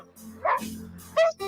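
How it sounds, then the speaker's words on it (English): An excited dog finding its owner lets out a few short, high yips and whimpery barks in quick succession, close and fairly loud with no talk over them. "this dog went absolutely crazy."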